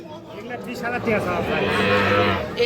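Young calves, about a month to a month and a half old, low at a busy cattle market, short bovine calls close by over crowd murmur and talking.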